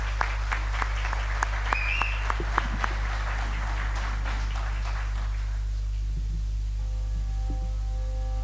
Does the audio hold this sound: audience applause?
yes